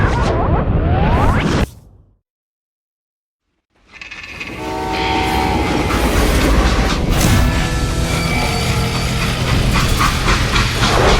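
Freight train in the Western game Call of Juarez: Gunslinger, with a loud horn blast, a brief silent gap, then a rumbling, rattling train run with squealing metal tones, close and loud.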